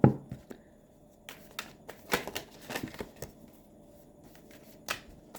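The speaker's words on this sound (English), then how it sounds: "one more shuffle. Poker shuffle." A rapid riffle of playing cards being shuffled, a few quick papery bursts close by, with brief pauses between them.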